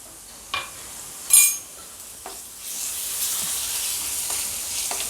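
Ginger-garlic paste sizzles in a hot pan as it is stirred with a spoon, with a couple of sharp metallic clinks early on and a steady frying hiss that grows louder and continues to the end.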